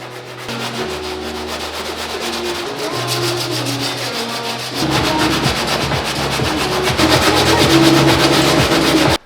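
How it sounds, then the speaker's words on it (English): Continuous rhythmic scratching of sandpaper rubbed back and forth by hand over a car body panel on a Chrysler SRT8, close and loud, growing harsher and faster midway through. "I'm just gonna get to work on the final parts of sanding it"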